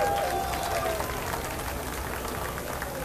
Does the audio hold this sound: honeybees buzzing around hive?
no